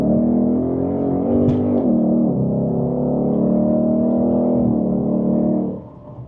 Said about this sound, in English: this gets a V8, so there's iconic V8 noises in this car